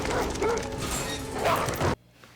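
A pack of dogs barks and yips loudly in a scene from the TV show The Last of Us, overlapping barks with a whimper, cut off abruptly near the end.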